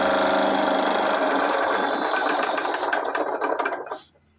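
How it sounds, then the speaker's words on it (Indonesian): An induction motor starting on an interlocking control setup, giving a loud, steady mechanical whir with a rapid rattling pulse that runs for about four seconds and then stops abruptly, with no talking. "Sekarang misalkan saya start motornya, maka ini adalah start pertama."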